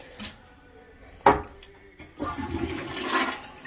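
A toilet flushing with water supplied from a 1600-gallon cistern tank, a sudden splash and gurgle followed by a rising rush of water refilling, heard close in a quiet room after a few light knocks.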